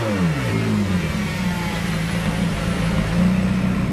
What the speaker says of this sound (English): it blips the engine significantly higher, much higher up the rev range